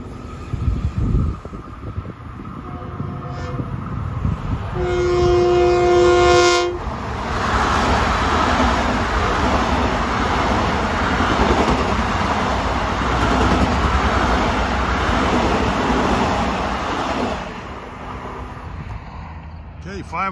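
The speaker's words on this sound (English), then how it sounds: "Here comes another westbound equipment train" A westbound Long Island Rail Road equipment train rumbles past close by at Pinelawn for a long stretch, preceded by a short blast of its horn, with the broad roar fading near the end.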